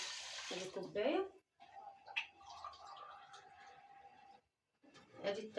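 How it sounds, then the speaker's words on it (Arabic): Water pours steadily from a cup into a pot of rice for rice pudding for a few seconds, between stretches of nearby speech. "هنحط عليه كوبايتين ميه بنفس المعيار اهو، ادي كوبايه،"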